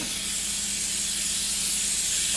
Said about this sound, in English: Let's spray it with some cooking spray.